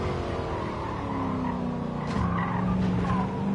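Tyres squeal and skid on a De Tomaso car lapping Monza in Gran Turismo 7, a loud, continuous screech riding over the droning engine, swelling near the end.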